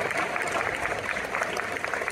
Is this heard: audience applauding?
yes